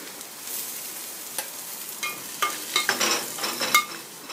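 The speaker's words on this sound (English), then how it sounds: "Heat up a pan on the cooker and add oil. When the oil is hot enough, add your onions." Onions hitting hot oil in a pan on a cooker, a soft steady sizzle that builds into brighter crackling spits and stirring scrapes, close and fairly quiet with no voices.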